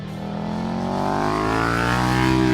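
A KTM 1290 Super Duke R motorcycle engine revs, a close, loud note that climbs steadily in pitch and volume over a couple of seconds.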